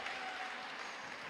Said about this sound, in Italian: Applausi per il Veneto che vince il Trofeo delle Regioni